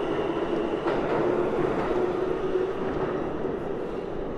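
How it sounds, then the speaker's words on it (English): Rumbling of a New York subway F train at Fort Hamilton Parkway station in Brooklyn, a steady loud rail roar with faint wheel clatter filling the station. "I just got off an F train at the Fort Hamilton Parkway subway station"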